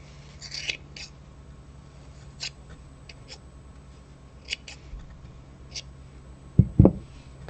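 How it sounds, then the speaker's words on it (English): Sparse, crisp snips of scissors cutting yarn loops at irregular intervals, faint and close, followed by a couple of heavier thumps near the end. "So I'm going to take my scissors and just cut those loops."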